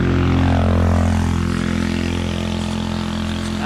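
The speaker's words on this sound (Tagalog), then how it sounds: "kahit motorsiklo iyak na. Iyak na yung motor." A motorcycle engine strains up a steep uphill climb in Rizal, making a loud, close, sustained droning roar with a rich harmonic buzz that holds steady throughout.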